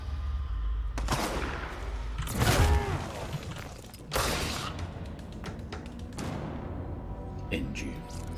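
Heavy blasts from a sawed-off shotgun in the video game Control, four loud booming shots spaced a second or two apart, each with a short ringing tail, while a voice talks between them.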